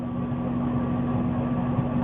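Tractor engine running steadily inside the cab, a constant low drone with a steady hum, close and continuous with no talk over it.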